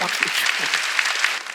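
A church congregation at a Sunday worship service bursts into brief, dense applause, many hands clapping together for a moment before it thins out, with a voice speaking faintly beneath.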